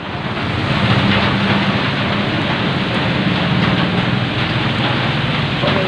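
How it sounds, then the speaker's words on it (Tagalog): Rain falling steadily outdoors on the way to a market, a dense, even wash of noise with a rushing, windy quality that holds at a constant level throughout. "It's raining."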